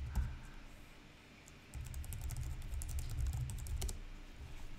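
Quiet typing on a computer keyboard, a quick patter of close, light key clicks that picks up after a short pause.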